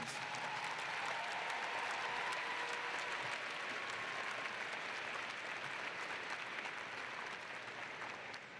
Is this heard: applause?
yes